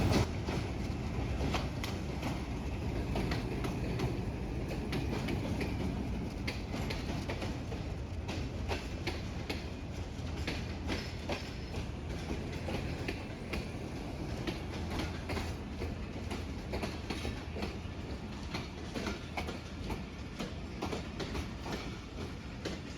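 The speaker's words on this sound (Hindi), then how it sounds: "46 डॉन पाकिस्तान एक्सप्रेस खूबसूरत अंदाज के अंदर वज़ीराबाद जंक्शन प्लेटफार्म नंबर 3 पर एंटर हो रही है।" The 46 Down Pakistan Express rolls into platform 3 at Wazirabad Junction with a steady, loud rumble and continuous rhythmic clatter of wheels over rail joints. Faint squeals come through, with no voices.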